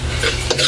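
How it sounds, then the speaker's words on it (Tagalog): Eggs being stirred into bean sprout vegetables in a bowl for Filipino lumpiang toge, with quick scraping and clinking of a utensil against the dish, short and close. "Mix po natin yung itlog."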